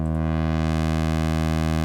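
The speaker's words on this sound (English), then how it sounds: "what we are hearing is the analog pulse oscillator of the sequencer" A sequencer's analog pulse oscillator drones continuously with a steady, buzzing pulse-wave tone with rich harmonics at a constant pitch, loud and unchanging.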